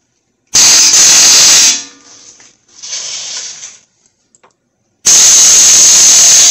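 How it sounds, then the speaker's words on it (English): An air hammer strikes the bottom of a lower ball joint on a 2011 Ford Fusion during a wheel bearing replacement, giving two loud, harsh rattling bursts separated by a quieter gap. "So what I'll do is I'll take my air hammer and I'll hit on the bottom."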